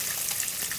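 Hilsa fish fry lightly in oil, a short burst of steady, close sizzling with no other sound.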